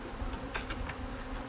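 Honey bees from a colony of a few hundred thousand buzz in a soft, steady drone, with a few louder passes as individual bees fly close.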